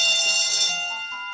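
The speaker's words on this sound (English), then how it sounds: "Here in the USA, school bells sound like this." An American school bell rings loudly in one continuous, harsh metallic tone that fades slightly toward the end of its brief burst.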